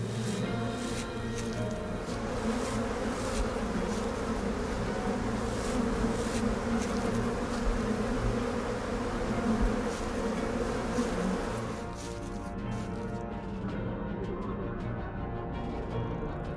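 Buzzing insects in the game Sucker for Love hum in a dense, steady drone that thins out near the end, heard alone without any talking.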